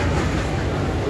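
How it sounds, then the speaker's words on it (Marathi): A local commuter train pulling out of Karjat station, heard from inside the carriage as a steady loud rumble and rattle of wheels and wagons over about a second, with no talk. "जस्ट गाडीमध्ये बसलो आणि लगेच ट्रेन सुटलेली आता"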